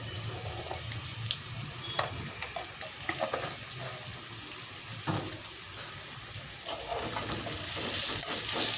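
Onions fry with salt in a pan, giving a steady hiss dotted with small crackles that grows a little louder toward the end.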